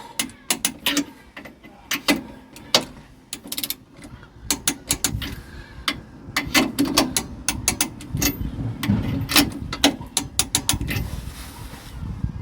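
A ratchet tightens the leaf spring bolts of a Ford Capri during an axle location kit fit, clicking in loud, irregular bursts of sharp pawl ticks with short pauses between strokes.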